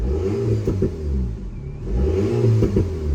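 An Alpine A110S sports car engine revs up and down in sport mode with the exhaust valve open, a deep, throaty exhaust note rising twice in quick succession, close and loud.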